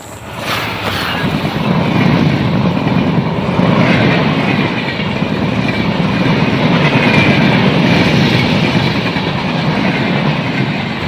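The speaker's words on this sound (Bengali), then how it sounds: "রেল স্টেশন দেখতেছেন ট্রেন আর লোক দৌড়াদৌড়ি করছে" Loud, continuous rumble of a train at Srinagar railway station with steady rattling and clatter, close by and unbroken for the whole stretch.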